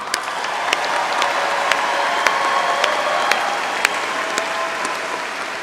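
Large crowd applause and cheering for a university graduating class at a commencement ceremony, a continuous wash of clapping punctuated by sharp, regularly spaced clicks and occasional shouts.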